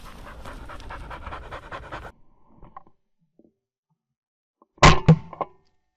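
A hunting dog pants rapidly and steadily up close for about two seconds after retrieving a chukar in the field, followed by quiet and then a sharp thump with some rustling near the end.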